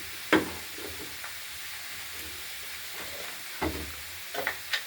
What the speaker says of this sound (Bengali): এরপর লাউটা একটু নাড়াচাড়া করে নিয়েছি